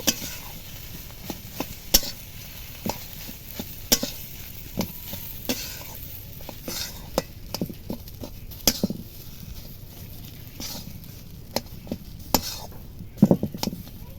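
Jackfruit-seed dhoka mixture, sweetened for balance, is stirred and dried out in a pan, with a steady soft sizzle under repeated sharp scrapes and taps of the spoon across the pan.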